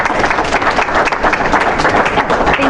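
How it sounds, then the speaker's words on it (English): Steady applause and clapping from a dinner audience at a community coalition event, dense and continuous throughout with no talk over it. "Let's give her a round of applause."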